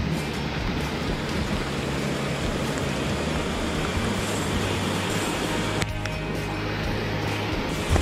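Heavy rain falls at a riverside campsite beside a rising river. It makes a dense, constant roar with a deep steady rumble underneath, filling the whole clip with no talking.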